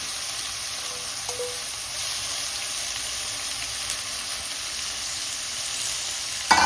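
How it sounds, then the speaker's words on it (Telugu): Dried shrimp fry in oil with turmeric for a gongura curry, giving a steady, close, even sizzle that runs throughout, with one brief clunk near the end. "మనం శుభ్రంగా కడిగి పెట్టుకున్న రొయ్యలు వేసేసుకోవాలండి. వాటిని ఆయిల్లో వేయించాలి."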